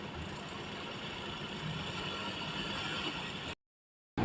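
Engine of an H950D TT vehicle running with a steady, low, rumbling drone at moderate level, cut by a brief silent gap near the end.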